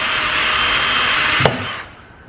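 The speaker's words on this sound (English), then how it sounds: "go right on the opposite side of that screw and drill another hole" A power drill whirs steadily at high speed while drilling a hole in a fuel tank sump, with a sharp knock near the end before the motor cuts off and winds down.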